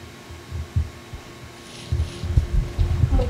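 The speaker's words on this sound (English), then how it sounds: "I hear heartbeats." Low, muffled heartbeats thump in a Minecraft horror game, irregular soft pulses at first that grow louder and more frequent over a faint steady hum.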